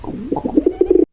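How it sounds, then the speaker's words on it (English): A dove coos in a quick run of soft, low, rounded notes, close and clear with no other sound. "Dove."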